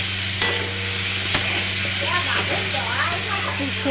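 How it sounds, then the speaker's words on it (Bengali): Spice paste for an egg curry sizzles and hisses steadily in a hot pan as it is sautéed, with occasional stirring scrapes, while a person talks over the cooking. "ডিমের তরকারি বানানোর জন্য মশলাটাকে ভালো করে কষিয়ে নিচ্ছি।"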